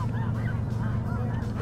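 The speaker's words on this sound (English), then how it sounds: "a lot of birds in the area." A flock of snow geese honking steadily over open water during a migration-day hunt, repeated nasal calls overlapping continuously at moderate distance with no talk.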